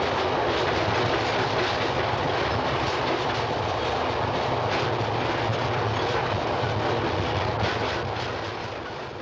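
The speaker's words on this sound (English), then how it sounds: "a westbound single car out of Hegewisch, Illinois climbs the embankment on a dark winter's day" A South Shore interurban single-car electric train, westbound out of Hegewisch, Illinois, climbs an embankment on a dark winter's day, a steady loud rumble and clatter that fades slightly at the end.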